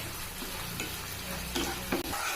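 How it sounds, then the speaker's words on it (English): Tomato paste stirred in a pan over high flame, a steady close sizzle and bubbling, with a few light scrapes of the spoon near the end. "I've kept it in the high flame right now and then mixing it"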